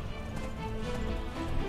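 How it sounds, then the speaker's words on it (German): A donkey mount gallops in the fantasy video game Enderal, a quick, steady clip-clop of hoofbeats with a muffled low rumble, heard alone for under two seconds. "Komm, galoppier. Galoppier, mein tapferer Esel."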